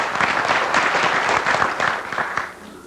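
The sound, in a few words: audience applause for the introduced professors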